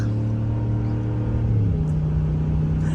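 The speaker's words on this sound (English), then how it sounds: "You can see the Hemi pulls pretty good here." Ram 1500 Laramie with a Hemi V8, in stock form, towing 4,000 pounds, drones with a steady loud engine hum that shifts pitch partway through as it pulls, alone without talk.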